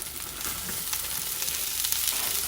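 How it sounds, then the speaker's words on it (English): Peppers and onions for chicken fajitas sizzling in an oiled pan, a fairly quiet but continuous frying hiss that swells slightly as it goes, with faint stirring clicks and no speech. "So I'm going to throw in my peppers and onions in here."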